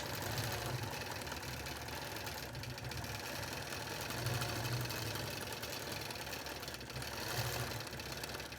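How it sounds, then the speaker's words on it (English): Close by, a sewing machine runs steadily as it stitches along the edge of a quilt binding. Its quiet, even mechanical hum carries on without a break, with no voices. "And I'm going to stitch along that edge."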